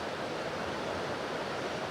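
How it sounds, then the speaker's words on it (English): Fast-flowing river water rushes beneath a bouncy footbridge on a morning walk in Spain, a steady, dense broadband roar that is close and continuous throughout, with no voices. "Look at that water though, it's moving so quickly."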